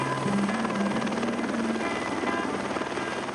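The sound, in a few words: helicopter flying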